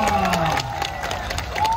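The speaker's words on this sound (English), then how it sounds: "Everybody just let me a massive round of applause." A crowd claps and cheers at a Christmas Day 2022 event in Melbourne, a steady wash of applause with a voice speaking loudly over it.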